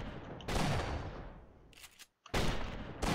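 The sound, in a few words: machine gun tower firing in Roblox Tower Battles video game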